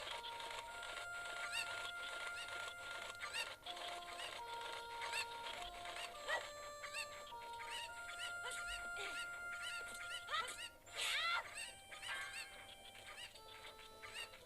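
Chickens in The Legend of Zelda: Ocarina of Time cluck in short bursts over a bed of soft, tonal background music, with a few brighter squawks toward the end.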